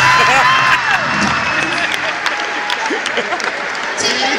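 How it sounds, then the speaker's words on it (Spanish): Applause and cheering rise from a live comedy show audience in Mexicali, a dense crowd clapping with scattered whoops throughout, fairly loud and close. "Un aplauso a mi amigo Espinosa Paz"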